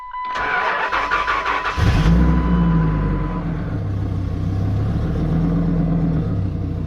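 A starter motor cranks for a couple of seconds with a rapid whirring chatter, then a car engine with 154,000 miles catches and settles into a steady, close idle rumble.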